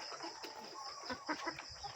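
Farm chickens cluck in short, soft bursts at close-to-middle distance, scattered across two seconds over a steady background hum, with no talking.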